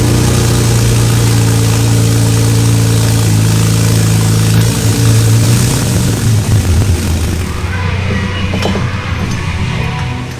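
A BMW 335i with the N54 engine fires up for the first time after a turbo job, then settles into a loud, steady idle with a deep hum. The note eases off near the end, and no one speaks.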